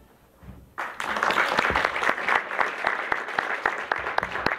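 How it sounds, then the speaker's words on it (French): After a quiet moment, an audience at a singing contest in Avesnes-sur-Helpe breaks into dense, steady applause for a singer, loud and close, holding strong for several seconds. "On l'applaudit bien fort."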